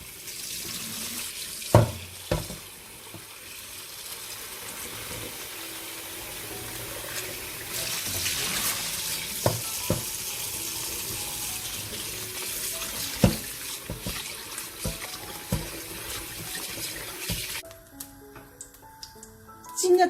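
Parboiled pork ribs are rinsed under a running kitchen tap, the water hissing steadily into the sink with clunks and knocks of the ribs and bowl, before the flow stops near the end.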